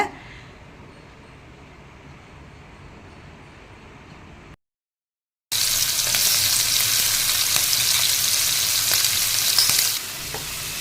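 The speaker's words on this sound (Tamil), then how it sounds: "ஸ்டவ்வை வந்து கம்மி பண்ணிவிட்டு இளம் தீயில் தான் இதை வறுக்கணும்" Prawns frying in oil over a low flame give a steady, close sizzle. It stops for about a second, then comes back louder and brighter for the rest of the clip.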